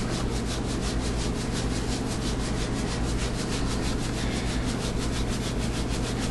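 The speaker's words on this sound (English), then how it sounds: "the ribs are all in the pan. They're all ready to go. I'm just going to hit them with some rub." Dry rub is scraped and rubbed by hand onto pork ribs in a pan, making a continuous close, loud, gritty rasping with a quick repeating rhythm.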